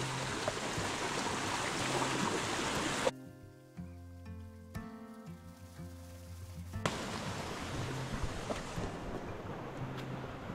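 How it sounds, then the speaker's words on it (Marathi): Stream water rushes underfoot on a monsoon jungle trek along the Panhala–Pawankhind route. The flow makes a loud, steady hiss that stops for a few seconds of tonal sound in the middle and then comes back. "कंटिन्यू असं पाणी बिणी वाटतंय पायातनं आणि त्या फ्लोमधनं चालायचं"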